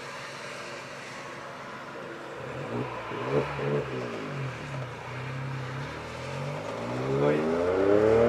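A Volkswagen up! TSI's small turbocharged engine revs up with rising, sweeping tones and a growing exhaust roar, close by, while someone speaks briefly over it.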